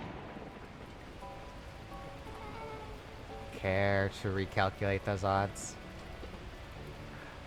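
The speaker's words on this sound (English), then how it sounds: "At that moment, the heavens opened up, unleashing torrential rain." Torrential rain falls in the video game Beacon Pines as a steady, soft hiss under a short line of spoken dialogue, with faint musical tones drifting underneath.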